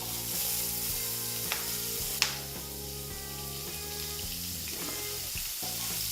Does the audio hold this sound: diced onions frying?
yes